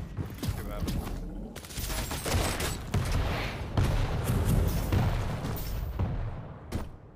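Rocket launcher fire and explosions in a Quake 2v2 tournament match, a dense rumbling barrage of booms and blasts with players' voices talking over the gameplay.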